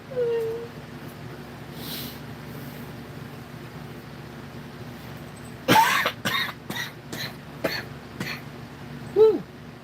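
Coughing near the microphone, a cluster of several sharp harsh coughs in quick succession after a quiet stretch, with a faint throat clearing near the end.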